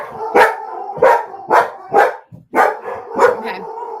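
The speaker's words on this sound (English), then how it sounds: "Okay, the dogs erupt." Several dogs bark in loud, repeated bursts, about six sharp outbursts over four seconds, close by and with no talk over them.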